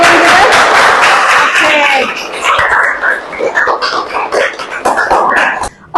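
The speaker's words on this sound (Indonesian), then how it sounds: "tepuk tangan untuk teman kita" Classroom clapping for a classmate after a product presentation, loud and close, mixed with voices talking over the claps, tapering off near the end.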